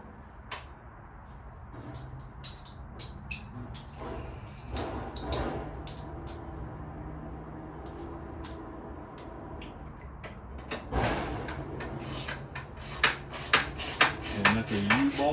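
Metal clicks, taps and clunks of a crash bar being unbolted from the side of a 1987 Honda Goldwing GL1200 motorcycle, with irregular close knocks and tool contacts that grow busier and louder toward the end.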